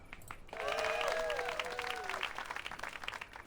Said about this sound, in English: She waves away the cheers of the crowd